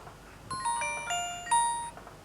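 A Nokia 105 (2017) feature phone plays its startup jingle on power-up, a clear series of bright bell-like chime tones in a rising melody, heard alone over faint background hiss.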